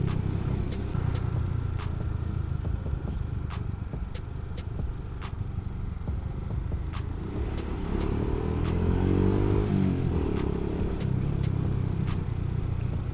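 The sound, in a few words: motorcycle engine running while riding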